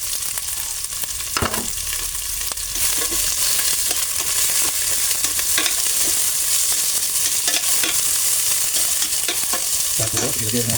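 Ginger sautéed in a pan for laing makes a loud continuous sizzle, with sharp scraping and clacking as a spatula stirs it repeatedly, close up and without talk.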